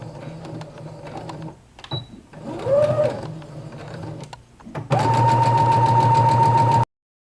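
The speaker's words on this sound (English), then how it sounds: "So I would just start right here and just top stitch straight down." A sewing machine top-stitching fabric for a jacket bow runs in short mechanical bursts, then settles into a loud, steady whir at close range over the final two seconds.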